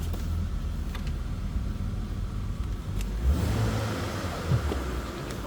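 A 1999 BMW 328i convertible's 2.8 liter inline-six engine idles steadily with a low, even rumble, swelling slightly in the second half as it revs a little, with no voices.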